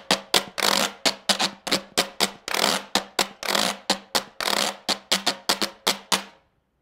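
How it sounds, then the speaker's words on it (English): Two metal sewing thimbles are struck together as a hand percussion instrument, giving a quick run of sharp, loud clicks in an uneven, shuffling rhythm, close and alone, ending abruptly. "But in the evening, you take these two tools, put them together, and make a percussive sound like this."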